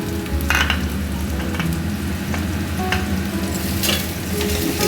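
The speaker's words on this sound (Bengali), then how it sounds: "এবার আমি রসুনটা দিয়ে দিলাম।" Garlic sizzles and fries in hot oil in a wok over browned onions, a steady close crackle with occasional stirring scrapes and no voices.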